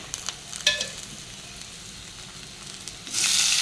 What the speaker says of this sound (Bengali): এবার কাঁচা লঙ্কা আর পেঁয়াজটা ভেজে নেবো এক সাইড করে। সামান্য তেল দিয়ে দিলাম।